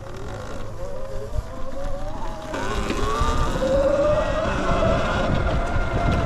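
A 2022 Sur Ron X electric dirt bike rolls down a hill, a steady motor whine rising in pitch under broadband wind and tire rumble that grows louder midway and holds at a constant level.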